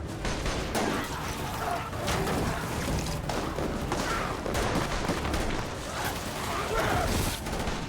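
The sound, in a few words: gunfire shooting barrels in The Last of Us TV show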